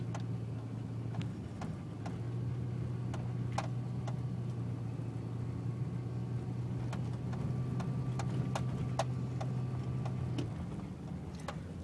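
A car drives up Martin Corner Road, its steady low engine hum and road rumble continuous and close, with faint light ticking sounds over the top.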